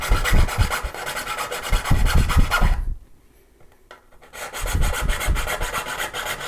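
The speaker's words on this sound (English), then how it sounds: "So I'll file that out." Rapid back-and-forth rasping of a file on wood, filing out a hole, close up, stopping briefly in the middle before the scraping strokes resume.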